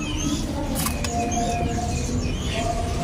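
An oriental magpie-robin sings brightly and varied, with quick chirps and whistled phrases over a steady background hum, fairly close and continuous.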